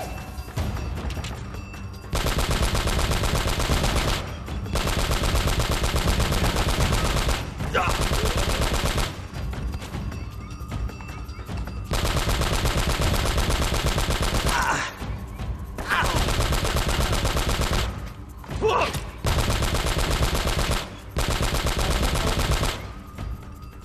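Bursts of rapid shotgun fire from the game Uncharted, repeated in dense volleys separated by brief pauses, loud and close.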